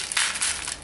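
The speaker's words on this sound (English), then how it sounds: "Listen to this. This is the crunch." Crisp sandwich bread crunches loudly in two or three quick bites close to the mouth, sharp and brittle with no talk.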